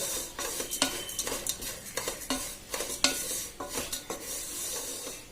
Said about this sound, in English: Now we need to continuously stir the mixture so that the jaggery melts in the pan.